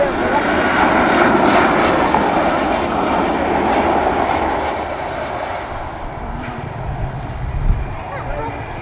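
A Ryanair aircraft at Dublin Airport roars with loud, broad engine noise that slowly eases and fades over several seconds, with a voice faintly audible beneath it.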